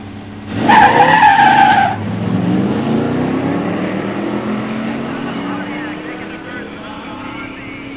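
A '71 Duster 344 and a '70 GTO Judge Ram Air 4 automatic launch in a drag race, a loud burst of engine roar and tire noise for about a second, then a fading drone as they pull away.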